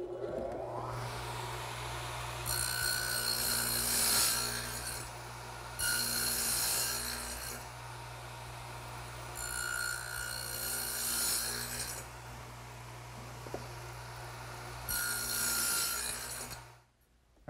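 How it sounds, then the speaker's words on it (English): A radial arm saw fitted with a dado head cuts a rabbet joint in wood for a workbench frame, four loud rasping passes of about two seconds each, separated by a steady motor hum. "I have the dado head set up in the radial arm"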